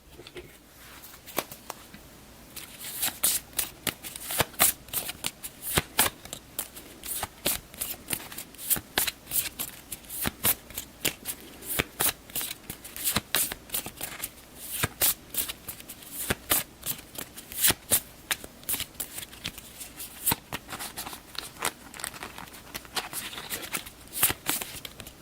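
Alien cards from the board game Alien: Fate of the Nostromo being shuffled back into the deck, a long run of crisp, rapid card riffles and flicks close up, steady with brief pauses, and almost no talking.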